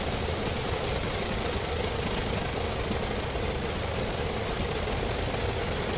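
The engine of a Jenny biplane in a multiplayer flight simulator game drones steadily and loudly with a rough, knocking texture, unbroken for several seconds with no talk.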